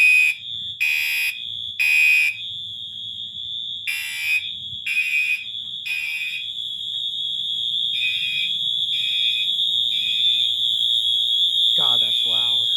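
A multitone fire alarm on a test bench cycles through loud electronic tones, first in rapid on-off pulses, then a steady piercing tone, and ends with a sweeping whoop; soft background noise sits underneath.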